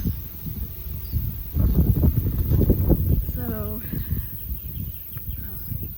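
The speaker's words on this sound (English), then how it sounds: "The wind picked up again, gusty." Gusty outdoor wind buffets the microphone in swelling rushes, strongest in the middle, while a person talks over it and a bird chirps briefly.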